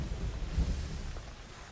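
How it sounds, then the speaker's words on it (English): Steady rain with low rumbling thunder swelling midway through a storm in Assassin's Creed Syndicate, a continuous wash of noise with no voices. "All this rain, too."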